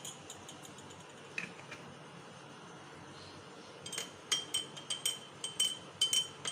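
A spoon stirs honey into a weight-loss tea, giving faint, close glassy clinks against the cup. They start sparse and then come in a quicker, regular run near the end over a quiet background hiss.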